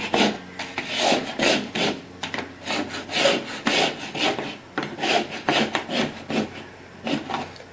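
Wallpaper scraped and peeled off an interior wall, a steady series of rough rasping strokes in close rhythm, loud and near with no talking.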